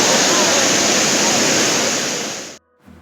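Kumbhe waterfall in monsoon roars as a loud, steady rush of falling water that cuts off abruptly near the end, followed by brief quiet.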